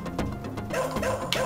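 A short run of synthesized dog barks and yips from the arcade game Shadow Dancer, repeated quickly over electronic game music.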